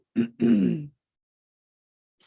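During a healing session, one person clears their throat nearby in two quick, rough bursts, the second longer and grunt-like, followed by silence.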